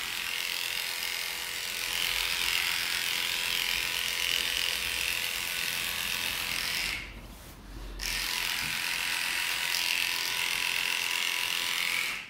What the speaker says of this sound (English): I'm using this Heininger cordless clipper